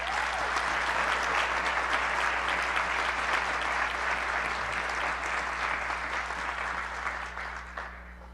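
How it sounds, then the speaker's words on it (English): A graduation crowd claps in a sustained round of applause at a college commencement ceremony. It stays dense and even, then gradually tapers off toward the end. "give a round of applause for these amazing people"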